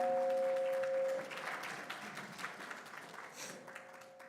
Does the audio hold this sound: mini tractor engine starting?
no